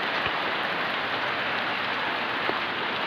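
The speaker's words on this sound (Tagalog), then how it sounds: "malakas na yung ulan" Heavy rain pours steadily beneath a mango tree, a dense, continuous hiss close by with a few sharper drops striking nearby surfaces.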